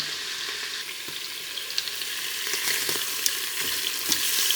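Meat for carbonade flamande sizzles steadily in a hot pan, a dense crackling hiss with occasional sharper pops, close and without talk.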